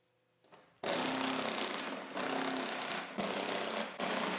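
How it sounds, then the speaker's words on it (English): Loud power-tool whirring with a ratcheting, buzzing drive as a 10mm socket backs out screws on a Toyota Sienna during trailer hitch installation, several sustained bursts separated by brief pauses, close to the microphone. "First, we're going to remove 5 screws with a 10mm socket."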